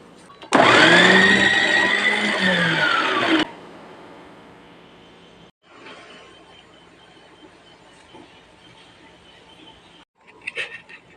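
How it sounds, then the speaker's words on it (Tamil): A mixer grinder whirs loudly for about three seconds as potatoes are ground for crisp chips, a steady high motor whine that cuts off abruptly, followed by faint rattling and handling noises. "இதை நான் இப்போ கிரைண்ட் பண்ணி காட்டுறேன் எப்படி பண்ணதுன்னு பாருங்கள்"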